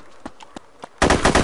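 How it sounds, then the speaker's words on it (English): Gunfire in the DayZ video game: a few faint distant shots in the first second, then a sudden loud burst of rapid close shots filling the rest. "I can just hear gunshots."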